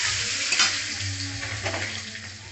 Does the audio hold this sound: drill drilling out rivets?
no